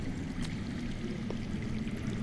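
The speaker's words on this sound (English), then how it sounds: "That's water. I hear water. From underground." Running water flowing underground in Game of Thrones, a Telltale game series, a steady rushing wash that is moderately loud and continuous, with no talk over it.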